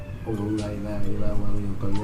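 Cats meow noisily in a few drawn-out, wavering cries that rise and fall under and between people chatting.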